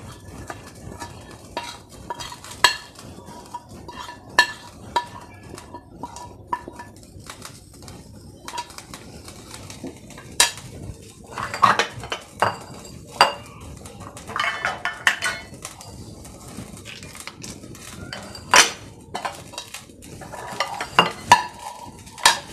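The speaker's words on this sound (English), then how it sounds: "and I will saute this nicely." Grated coconut sautéed in a pan for Kerala kozhukatta, with scattered clinks and scrapes of a utensil against the pan and a soft, steady sizzle beneath, close and moderately loud.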